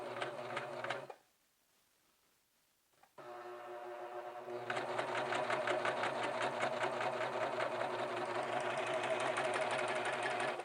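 A serger sewing machine stitches along a fabric fold, its rapid, steady mechanical chatter heard up close, pausing into near silence for about two seconds, then restarting and running on continuously.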